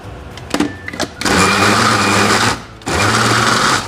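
A small kitchen blender grinds chicken into a fine paste for Thai chicken sausage. It starts with short motor bursts, then runs as a loud, steady whir, stops briefly, and starts again.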